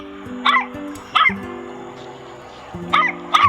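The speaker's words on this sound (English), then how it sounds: "There's the dog." A dog barks four times in short, sharp bursts, two near the start and two at the end, close and fairly loud over a steady low background hum.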